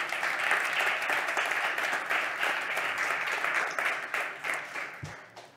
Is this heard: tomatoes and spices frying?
no